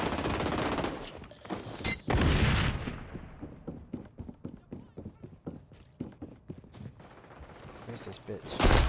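Rapid gunfire from the online shooter XDefiant, a dense burst up front followed by a sharp loud shot and a string of quick, evenly spaced cracks, with players talking over the action.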